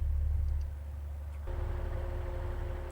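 The diesel engine of a Class 156 train in Train Simulator 2018 idles with a steady low rumble, then a faint hum steps up partway through, with no voices.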